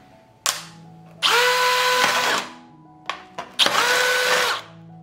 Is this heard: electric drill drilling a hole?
yes